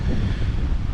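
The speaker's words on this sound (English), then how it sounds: "Bit windy today" Wind buffets the microphone on the Zakynthos island coast, a steady low roaring rush with surf-like texture, brief and continuous.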